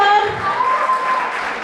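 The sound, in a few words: loud applause for a student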